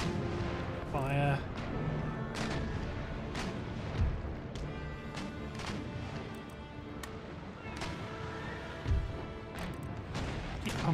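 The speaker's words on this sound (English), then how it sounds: "You have just got to keep blasting broadsides into her because you've got no other option" Naval cannon broadsides from sailing warships in a battle, with repeated heavy booms and cracking shots spread through a loud, busy mix, while someone talks over much of the firing.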